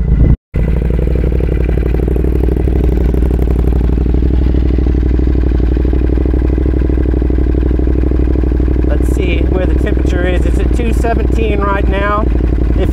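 A Ducati Monster 821 motorcycle idles steadily in hot weather, a constant low engine rumble running throughout, with a brief dropout near the start and a person talking over it toward the end.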